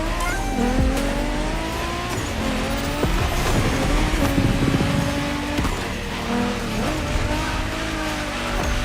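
Race cars roar through the final race in The Crew Motorfest, engines revving and shifting with squealing tires and skids, loud and continuous with no voices.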